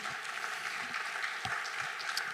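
Steady, dense applause from a conference audience for a panel discussing a national artificial intelligence strategy at JIA 2025, filling the whole stretch at an even, moderate level with no voice on top.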